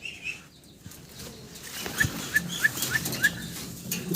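A female Andalusian-blood pigeon flaps its wings in a quick close flurry of beats, with faint soft chirps and quiet background noise.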